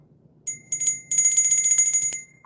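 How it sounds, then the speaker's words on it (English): A hand bell rung indoors in bursts of bright metallic ringing, one short peal followed by a longer run of rapid strokes, close and clear with no talking over it. "I got to get better at ringing a bell"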